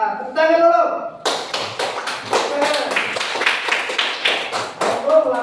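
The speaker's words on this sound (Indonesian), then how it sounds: "Tepuk tangan dulu." Children in a fourth-grade Indonesian science classroom clap hands together, a brisk run of sharp, rhythmic claps close by for several seconds, just after a short burst of a teacher speaking.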